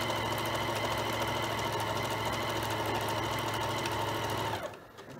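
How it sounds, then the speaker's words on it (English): A sewing machine stitches a 1/4 inch seam on a strip-pieced quilt-as-you-go table runner, a steady close whirring hum running continuously before stopping abruptly near the end. "we're sewing a 1/4 inch seam allowance"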